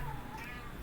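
Cats meowing close by, a short wavering cry that runs steadily for under a second with a busy background hum beneath it.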